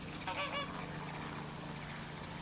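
Flamingos at Discovery Cove park give a few faint goose-like honks early on, set against a steady wash of outdoor background noise, with no one speaking.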